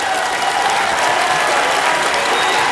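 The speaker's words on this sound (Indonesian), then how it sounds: "Kita kasih tepuk tangan terus ya" A large audience claps loudly and steadily, a dense wash of applause sustained throughout without letting up.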